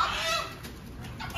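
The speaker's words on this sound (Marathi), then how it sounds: "कोंबडी घेऊन आल्या आता." A chicken clucks at a market, heard as a few faint, muffled calls under a steady noisy background.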